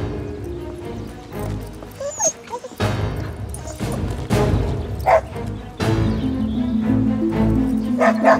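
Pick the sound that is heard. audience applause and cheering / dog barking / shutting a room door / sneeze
dog barking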